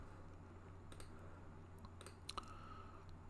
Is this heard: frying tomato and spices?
no